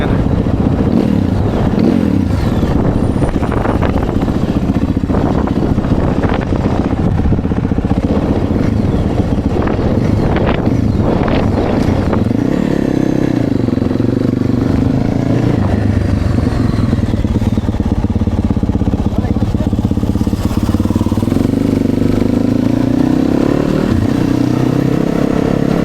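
A 450 dirt bike engine that barely started and has a battery that keeps dying, running steadily and loud up close, with a few revs and clattering sounds, and a person talks over it at times.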